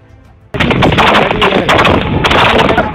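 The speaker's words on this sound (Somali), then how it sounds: "rasaasta dhacaysa waa mid aan sax ahayn balse la dul saaray muuqaalka dhagayso ereyada iyo dhawaaqa xabadaha oo isburinaya" Dubbed gunfire sound effect laid over film footage: a dense, loud burst of rapid automatic shots starts abruptly after a quiet opening and continues without pause to the end.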